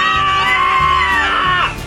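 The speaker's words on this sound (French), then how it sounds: "Viens, on crie tous les deux." Two voices shout together in one long, loud, sustained yell with a steady pitch, rising and trailing off near the end, recorded close with no other talk.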